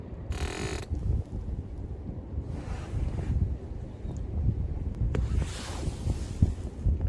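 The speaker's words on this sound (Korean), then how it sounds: "바람도 세고 파도도 센데" Strong wind at a seaside harbour at Yangpo port in Pohang, gusting in buffeting waves over a low rumble of surf and water, with occasional mechanical clicks and creaks, no voices.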